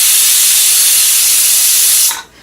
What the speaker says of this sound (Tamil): சாப்பாடு 5 விசில் வந்துருச்சுங்க.